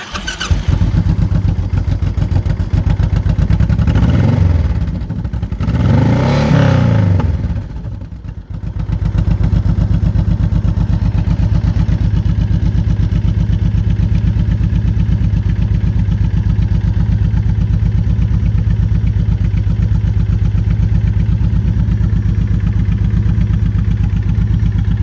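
A modified Honda VTX 1800 motorcycle idles with a loud, deep, steady engine rumble close by, briefly rising in a couple of revs early on before settling back to a constant idle.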